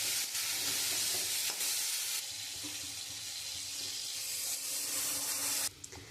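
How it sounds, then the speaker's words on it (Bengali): Water pours into a pan of frying hilsa fish curry with potato and aubergine, a loud rushing hiss and bubbling sizzle that carries on steadily and then cuts off sharply near the end. "এবার আমি পরিমাণ মতন জল দিয়ে দেবো।"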